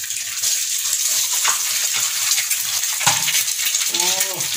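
An egg frying in hot oil in a kadai for bhujia gives a steady, loud, close sizzle throughout, with a few small clinks and a brief voice near the end.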